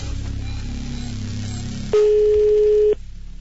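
A telephone line tone heard while a call is being placed: steady line hiss, then a single loud, clear ring tone lasting about one second before cutting off.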